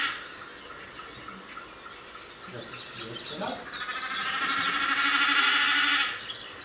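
Snipe drumming from tail feathers vibrating in a display dive, a tremulous, bleating hum that swells over a few seconds and then cuts off, heard at moderate distance over faint background hiss, with a brief spoken phrase just before it.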